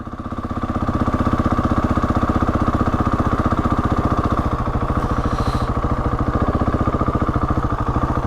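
A Husqvarna 701 Enduro's single-cylinder engine idles steadily, a loud close, even chugging pulse that holds for the full stretch without any talk.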